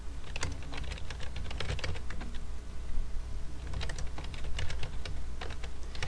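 Steady, rapid keystrokes on a computer keyboard, as email addresses are entered, clicking in quick irregular bursts at close range over a low constant hum, with no talking.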